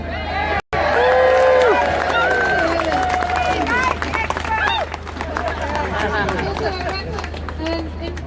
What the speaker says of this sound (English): Please give a big cheer.